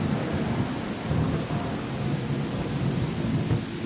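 Steady rain pours and low thunder rumbles continuously through a rainy-season storm in the Waterberg, loud and enveloping with no voices.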